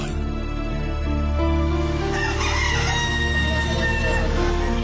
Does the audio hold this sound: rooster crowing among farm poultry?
yes